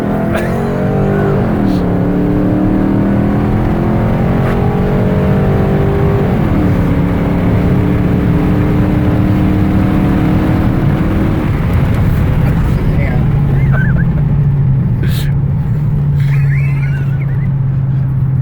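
A loud 2009 Dodge Charger with new exhaust headers revs and accelerates hard from 30 mph, pitch climbing and shifting through gears, with a throaty exhaust roar throughout.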